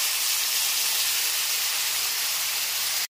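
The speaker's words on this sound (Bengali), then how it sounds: "এর মধ্যে পেঁয়াজ, আদা, রসুন, কাঁচা লঙ্কার পেস্টটা দিয়ে দিচ্ছি" Paste of onion, ginger, garlic and green chili hits hot oil over low flame, producing a loud, even, hissing sizzle that holds steady before cutting off abruptly.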